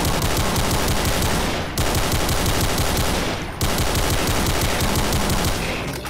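Relentless, loud rifle fire in a video game, rapid rounds blurring into dense, continuous bursts with two short breaks.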